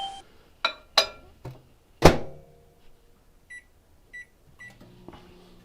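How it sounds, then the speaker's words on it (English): Cut-up chicken goes into a microwave oven: sharp clunks of the door and handling, followed by a few short electronic beeps as it is set, with faint hum starting at the end. "We're going to pop that in the microwave for 30 seconds."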